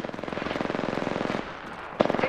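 Automatic gunfire in Apex Legends, with a fast, steady burst of shots that breaks off and then resumes with a sharp crack and more rapid fire, loud and close.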